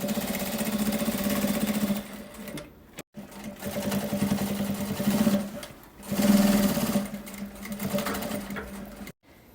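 A sewing machine topstitches along the edges of a fabric nail polish holder, running in steady continuous bursts with brief pauses between runs, close and fairly loud.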